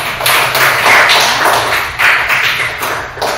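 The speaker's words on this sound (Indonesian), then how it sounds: "Kita kasih tepuk semangat untuk teman kita yang sudah menjawab tiga-tiganya adalah benar" Students in a classroom clap loudly and close by for a classmate, beating out a rhythmic cheer pattern as a group in several bursts that swell and dip.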